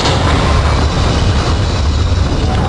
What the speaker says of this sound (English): This train is now transferring to the Sector C line of the transit system.